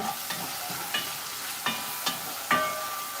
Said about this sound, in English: And I want that bacon to like really cook down.